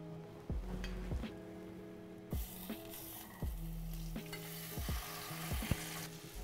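A cauliflower half searing cut side down in a hot pan, a faint continuous sizzle broken by several sharp scraping and clattering knocks, no voices.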